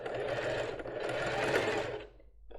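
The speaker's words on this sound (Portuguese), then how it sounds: "Aqui eu já começo a costurar, dou um retrocesso." A sewing machine stitches a lace bra, running steadily and close for about two seconds before easing off briefly for a backstitch and then starting again.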